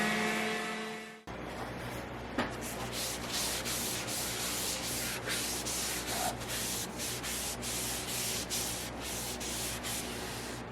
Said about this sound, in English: Getting tear out, so I think I'm just going to sand it.